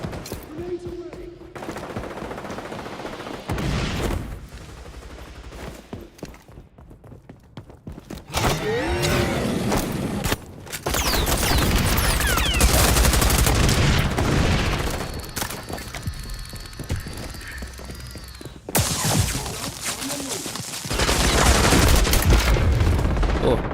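Inside a video game match, grenades detonate with heavy booms and rapid bursts of gunfire crackle loud and dense, broken by quieter gaps, while a player talks at times.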